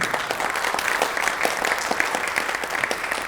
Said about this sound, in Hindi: इतनी सारी तालियों की गड़गड़ाहट बता रही है, सारे कलाकारों का जोश बढ़ा रही है